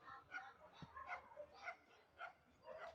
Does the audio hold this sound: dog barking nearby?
yes